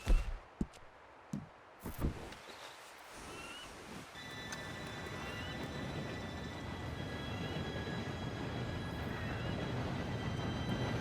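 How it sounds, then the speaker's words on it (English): Train approaching in Red Dead Redemption 2, a steady rumbling roar that swells gradually and holds, with faint squeals and a distant horn-like tone above it, after a few sharp knocks and thuds at the start. "Train should be here any minute now."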